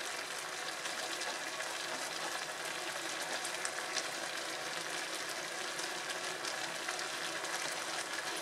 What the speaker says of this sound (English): allow this to continue boiling until all of the ingredients are tender